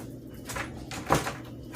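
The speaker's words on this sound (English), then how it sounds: "Close the door." A door swinging shut in a garage workshop during a car audio wall build, with a single soft thud followed by a brief rattle, fairly quiet against low background noise.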